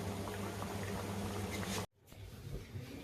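Vadas deep-frying in hot oil for kat vada, a steady bubbling sizzle that cuts off abruptly partway through, then returns more softly.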